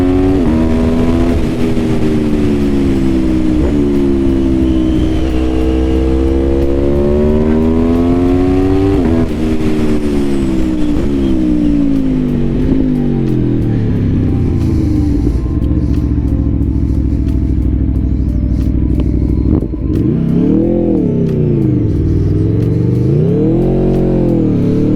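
A 2021 Aprilia Tuono V4 Factory motorcycle engine revs loudly and up close, its pitch climbing and falling through repeated throttle blips and sweeping rises, with a deep steady rumble underneath.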